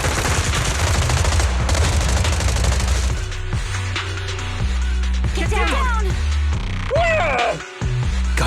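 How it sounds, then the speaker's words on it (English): Sustained volleys of marching gunfire in Zenless Zone Zero, dense and loud throughout, layered with game music and effects, with brief whooshing accents near the end. "impressive marching fire."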